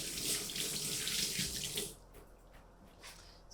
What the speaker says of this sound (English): I'm going to add some radishes, so they need a bit of a wash too.